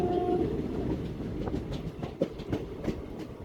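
A passenger train on the Mumbai–Pune line near Kamshet station rumbles along the rails during the monsoon, with rhythmic clicking of the wheels, heard close up and fairly loud.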